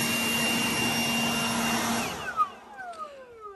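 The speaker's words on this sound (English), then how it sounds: "So let me finish blow drying this" A loud, steady air blower roars while drying a washed C8 Corvette, then shuts off and winds down with a falling whine near the end.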